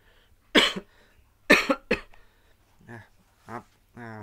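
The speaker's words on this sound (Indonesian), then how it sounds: "lagi batuk." Several quick coughs in close succession, loud and near, followed by softer vocal sounds and a voice beginning to speak.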